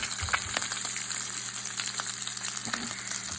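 Wagyu beef bacon fries in a pan with no oil, crackling and sizzling loudly up close, with a scrape or two as the strips are turned, no voices over it.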